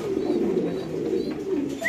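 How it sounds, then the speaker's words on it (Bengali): Lahori fancy pigeon cooing on a Bangladeshi pigeon farm, a low, soft, repeated coo close by, with faint chirps from other birds in the background. "দর্শক দেখেন ককার ডাক"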